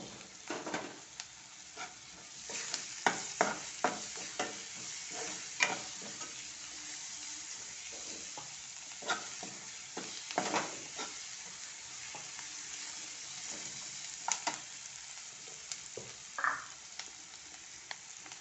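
Finely chopped tomato fries and sizzles in a pan, a continuous soft hiss broken by frequent scraping stirs and light ticks, fairly quiet, with no talk.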